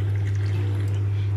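A thin stream of water pours into tahini for a salad dressing, a short continuous trickle heard over a steady low hum, fairly close, with no talking.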